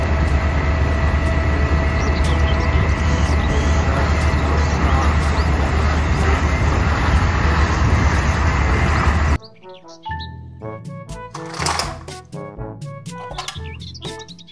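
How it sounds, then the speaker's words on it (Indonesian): A concrete mixer truck rumbles with a steady, loud low drone and whirring noise for about nine seconds, before an abrupt cut to music and a voice. "Mobil truk molen."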